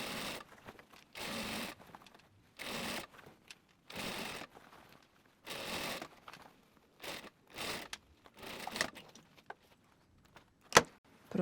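A sewing machine stitches the lining seam of a dress in short repeated bursts separated by pauses, fairly quiet and close, with a small click near the end.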